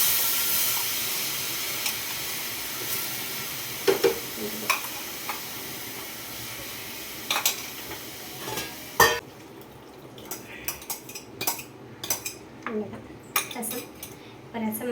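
Mustard seeds sizzle and crackle in hot oil for a prawn gravy, a steady frying hiss with scattered sharp pops and metal spoon clinks, and a few stirring clatters near the end.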